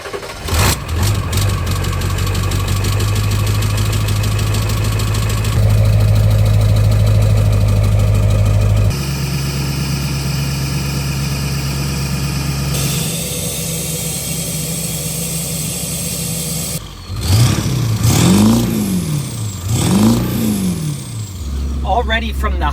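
Ford 7.3 Powerstroke diesel fitted with a new exhaust, idling loud and steady with a deep rumble, then shifting to a higher idle before two rising and falling revs near the end.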